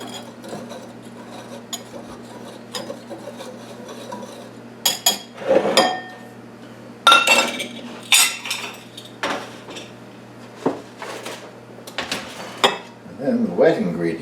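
Flour, sugar, baking powder and salt being mixed in a bowl for an apple skillet cake: repeated scraping and clinking of a utensil against the bowl in bursts, fairly close, over a steady low hum, with a voice now and then.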